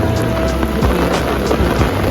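Heavy rain pours steadily at night at Kyaiktiyo pagoda, a dense unbroken roar of drops drumming on surfaces, with low rumbling underneath that suggests distant thunder.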